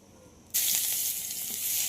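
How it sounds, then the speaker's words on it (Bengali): Grated garlic, seven or eight cloves, drops into hot oil with cumin tempering and bursts into a loud, steady sizzle that holds without a break after a quiet start. "রসুনটাকে একটু হালকা ভাজা ভাজা করে নেব"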